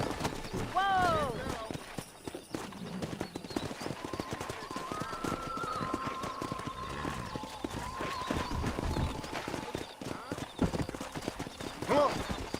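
Hooves clip-clop in a quick, running rhythm under mixed talk and calls in Red Dead Redemption, with a horse whinnying briefly near the start and end.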